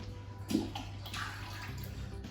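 Lemons being swished and rinsed in a bowl of water while making elderflower champagne, a brief splash followed by soft sloshing and trickling over a steady low hum.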